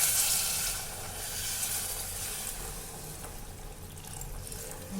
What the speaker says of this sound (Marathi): पाणी टाकणार आहे याच्यात